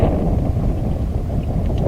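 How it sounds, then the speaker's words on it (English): Wind blows across a fishing boat on open water, a steady low rumble of buffeting gusts, loud and continuous for a brief moment. "it got too windy"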